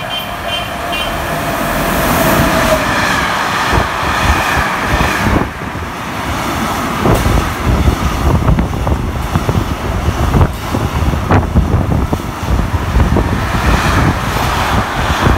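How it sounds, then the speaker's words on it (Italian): A Frecciabianca passenger train rushes by nearby in Italy with a sustained rumbling roar, wheel clatter and wind buffeting, loud and continuous throughout without talking. "treno freccia bianca"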